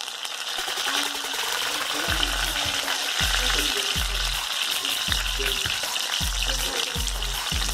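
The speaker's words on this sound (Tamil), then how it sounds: "கருவேப்பிலை போட்டுடலாம்." Curry leaves hit hot oil for Tamil pepper chicken fry, giving a close, crackling sizzle with a regular low thudding pulse running underneath throughout.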